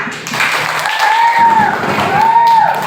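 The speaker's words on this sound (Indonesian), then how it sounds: "Tepuk tangan untuk semuanya." Children in a classroom clap together after a closing prayer, a bright, moderately loud burst of applause lasting a few seconds, with a thin wavering whistle-like tone sounding over it.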